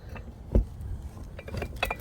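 A small green half-pint glass bottle is handled, giving a few light clinks and knocks, with one sharper tap early on, amid soft rustling.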